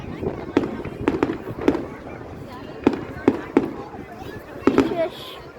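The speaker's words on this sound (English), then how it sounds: "the fireworks are beautiful in like real life, but in the camera it's kind of bad," Fireworks burst in a series of sharp, booming cracks spaced irregularly over several seconds, heard from a distance with faint background chatter between the bangs.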